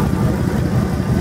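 The 390 cubic inch engine of a 1973 Ford F-350 pickup, fitted with a new carburetor and leaking exhaust manifold gaskets, idles in a close, loud, lumpy low rumble for a brief stretch.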